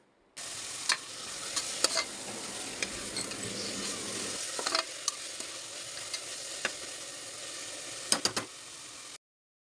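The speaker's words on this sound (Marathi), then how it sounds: "आता याच्यामध्ये मी टोमॅटो टाकते जे टोमॅटो आपण घेतलेले दोन कापून बारीक चिरून घेतलेले ते टाकते आणि ते चांगले परतून घेते" Finely chopped tomatoes sauté in hot oil for a prawn rice dish, a moderate sizzle with scattered clicks and scrapes of a spatula, steady until it cuts off near the end, no voices.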